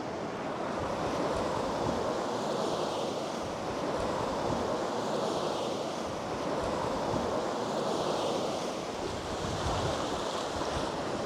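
Sea waves wash onto a rocky shoreline by a headland, a continuous loud roar of surf with gentle swells and wind buffeting the microphone, no voices.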